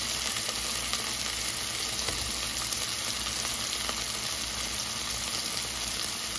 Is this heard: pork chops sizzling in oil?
yes